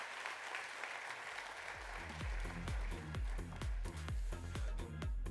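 Audience applause at a tech conference keynote, steady dense clapping that swells and continues under a rhythmic thumping music beat starting partway through.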